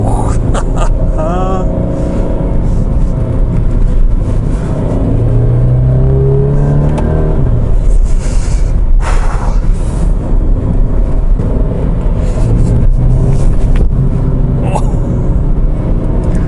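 A Ferrari 360 sports car engine accelerates and revs close up, its rising tone climbing through gears over steady road and cabin noise, with a voice speaking briefly.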